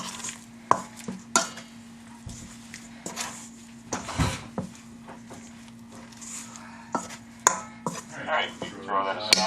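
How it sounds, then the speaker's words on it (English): Chicken pieces stirred in flour in a bowl for a chicken stir fry, a soft scraping and tapping with scattered clinks and bumps of kitchen utensils, steady room hum underneath and no speech. "Stir that until everything's coated."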